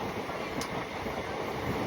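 A powerful Indian electric locomotive hauls a train between Munirabad and Ballari, a steady broadband rumble and rush with wind noise, continuous and fairly close throughout, with no voices.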